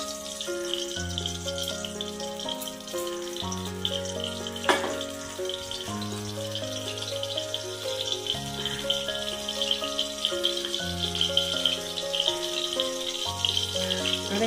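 Oil heats in a hot kadai while a vegetarian bori posto is being made, giving a steady, soft sizzle and hiss under continuous background music.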